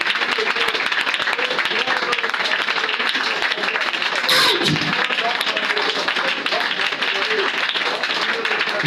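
A church congregation applauding during a fervent prayer session, a dense steady wash of clapping and crowd noise that holds loud and even throughout with voices mixed in.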